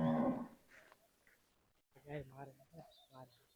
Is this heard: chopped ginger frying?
no